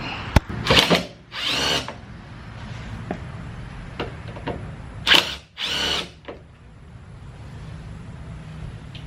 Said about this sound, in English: after we get done drilling that side skirt back in the correct place